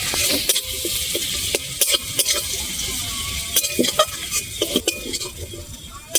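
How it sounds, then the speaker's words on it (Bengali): Crushed garlic fries in a pan under a gentle sizzle while a utensil scrapes and clinks against the metal in quick, repeated stirring strokes close up. "রসুনটা ভালো করে একটু ভেজে নেব।"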